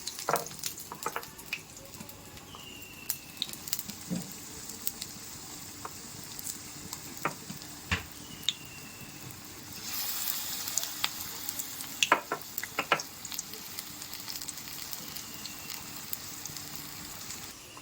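Coriander-leaf chops deep-frying in hot oil over low gas, a steady close sizzle with scattered pops and crackles throughout, briefly swelling louder midway, with no talking.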